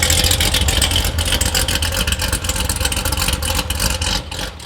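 C7 Corvette V8 with forged pistons idling while warming up, a loud, close, steady rumble with a throbbing pulse, easing slightly at the end.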